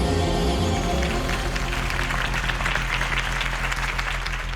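A crowd in the Batman Telltale Series video game applauds after Harvey Dent's campaign speech, a dense, sustained wash of clapping, fairly loud and steady over a low musical bed, with no speech.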